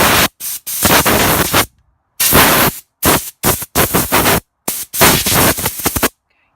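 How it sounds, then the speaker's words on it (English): Air blower clearing the oil groove of a Stihl MS 180 chainsaw, loud, close hissing blasts in a series of short and longer bursts with brief silent gaps. "So I'll get the blower"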